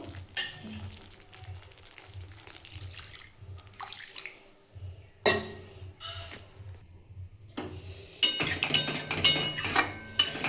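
Water poured into a pan of mustard hilsa curry while cooking, heard as brief splashing and running water mixed with clinks of utensils, fairly close and moderately loud, with no talking.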